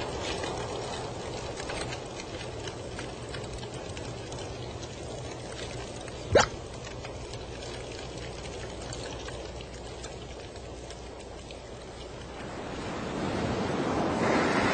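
Ocean surf where flowing lava reaches the sea: a continuous wash of breaking waves with wind buffeting the microphone, one sharp crack partway through, and the roar swelling louder toward the end.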